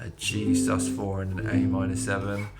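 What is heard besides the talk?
No everyday noises stand out.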